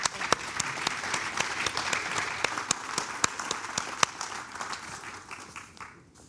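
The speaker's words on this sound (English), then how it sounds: "Let's give a round of applause for our first panel." Audience applause at a Mobile World Congress 2017 industrial internet panel session, a steady wash of many hands clapping with sharp individual claps standing out, fading away near the end.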